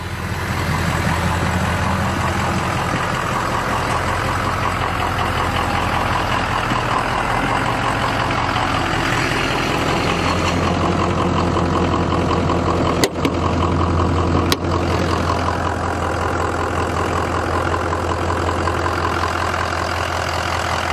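A 2003 Ford Super Duty F-250 diesel engine with a custom exhaust idles steadily and loudly nearby, a constant deep rumble with a throaty exhaust tone and a couple of brief clicks.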